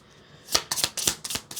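A deck of cards being given a regular shuffle, a quick run of crisp riffling bursts that starts after a short quiet moment, close up and without talk.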